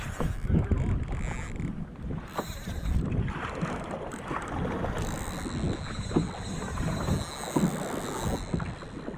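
Fishing boat being paddled on open water while a fish pulls on the line, with repeated splashy paddle strokes and water wash under steady wind buffeting the microphone, no voices.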